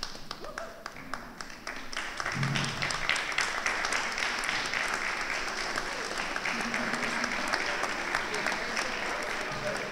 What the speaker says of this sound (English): give a round of applause for your family and friends here tonight who supported you